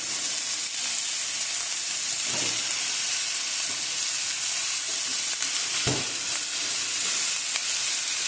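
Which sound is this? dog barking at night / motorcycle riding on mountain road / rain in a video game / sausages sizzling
sausages sizzling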